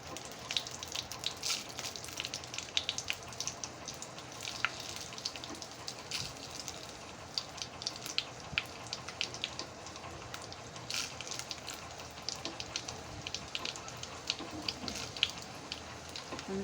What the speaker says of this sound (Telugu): ఎండుమిర్చి బాగా వేపుకోవాలి.